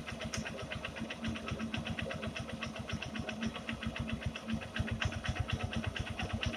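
A 2019 Honda Shine SP motorcycle engine runs steadily during carburetor screw adjustment, its rapid even firing pulses rising slightly in pace and loudness toward the end, close and continuous with no talk.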